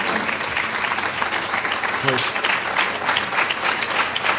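Sustained audience applause at a talk, a dense steady wash of many hands clapping throughout with a voice faintly heard under it.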